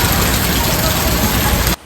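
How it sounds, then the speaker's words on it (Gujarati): Heavy rain pours down in Wankaner, a steady dense hiss of falling water that stays loud and even before cutting off abruptly near the end. "જોઈશું વરસાદ કેવું પડી રહ્યો છે."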